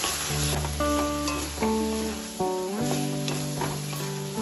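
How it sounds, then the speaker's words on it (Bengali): Eggplant pieces stirred in hot oil with tomato, a continuous bright sizzle with occasional stirring knocks, partly covered by steady sustained musical tones throughout. "বেগুনটাও তেলের সাথে ভালোভাবে একটু নাড়াচাড়া করে নেব"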